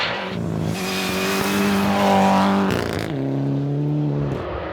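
A top-level rally car races along a forest stage at the Pacific Forest Rally, its engine close and loud, revving hard through gear changes with sustained high-pitched acceleration.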